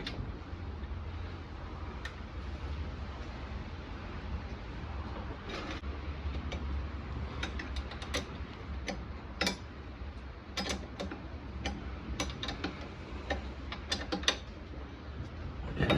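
Fasteners being tightened on a Yamaha Virago 250 motorcycle during restoration, heard as a run of sharp ratchet clicks and metallic ticks, mostly from about five seconds on, over a low steady background hum.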